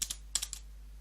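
Several quick keystrokes clatter on a computer keyboard, close and crisp, in two short clusters within a second.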